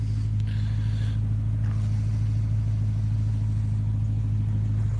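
A BMW car engine idles with a steady low rumble throughout, loud and close, with a faint clatter near the start; the car has seen little driving lately.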